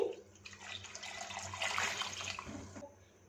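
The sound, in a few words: water poured into a pot of potatoes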